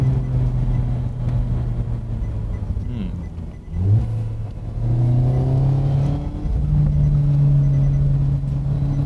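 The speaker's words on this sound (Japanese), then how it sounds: "言わず知れたマフラーが変わってるわけですが" A tuned roadster sports car with an aftermarket muffler heard from inside the cabin, a loud steady engine drone that dips, then rises through revs and gear changes, booming and continuous.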